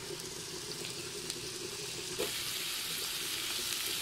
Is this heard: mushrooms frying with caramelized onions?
yes